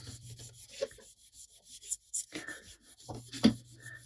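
Fishing rod blank surface roughed up by hand, faint intermittent rubbing and scuffing strokes, close and quiet with uneven pauses between them.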